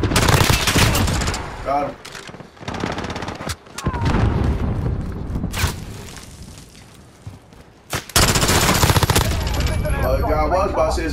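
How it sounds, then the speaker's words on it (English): Gunfire and a grenade blast in Call of Duty Modern Warfare multiplayer, loud bursts of automatic fire and booming impacts in rapid clusters, with players talking over the action. "Grenade out!"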